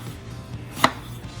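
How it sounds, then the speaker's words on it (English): A knife slices a lemon into thin slices on a cutting board, giving one short, crisp chop against a quiet room background with low hum. "the rest of this lemon, I'm actually gonna cut it into some slices, like this, real thin slices"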